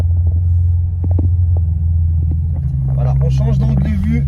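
A Ferrari V8 pulls away with a deep, steady, throbbing rumble close by, while voices talk over the latter part.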